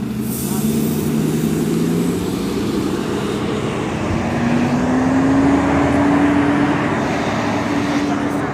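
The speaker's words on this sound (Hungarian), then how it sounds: "És még így is befordul a busz" A bus turns on the hairpin road of the Stelvio Pass, its engine a steady low drone rising slightly in pitch near the end, with a continuous rumble throughout.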